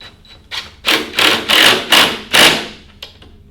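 A nut being snugged with a 1/2-inch wrench while assembling a sewing workstation table, heard as a series of about five close, loud, broadband clicks and knocks in a steady rhythm, with no talking.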